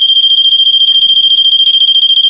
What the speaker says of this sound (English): when you push in the test button, that alarm will go off